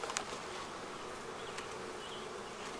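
Honeybees buzz softly around a double-stacked Flow Hive outdoors, a faint, steady hum with a few individual insects droning briefly closer.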